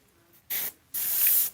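An airbrush being flushed through with liquid, loosening leftover orange color: two close bursts of sharp, loud spray hiss, a short one followed by a longer sustained blast, with no talk.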